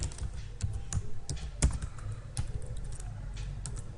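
Close, quick keystrokes tap out Java code on a computer keyboard in an irregular rhythm, with a few louder key strikes and no talking.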